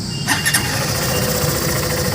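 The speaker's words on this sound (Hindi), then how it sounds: "अब ये है सुपर स्प्लेंडर एक्सटेक, इसका इंजन स्टार्ट करके दिखाते हैं आपको।" A Super Splendor Xtec 2.0 motorcycle engine starts with a short cranking burst, then settles into a steady, close, moderately loud idle.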